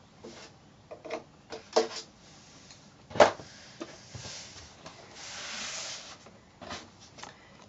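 A steam iron presses quilt block seams on a Balkan Puzzle block, with a series of sharp thumps and clicks as it is set down and moved, and a longer soft hiss of steam in the middle, close by.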